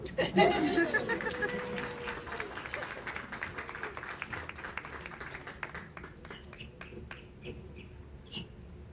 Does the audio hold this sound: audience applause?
yes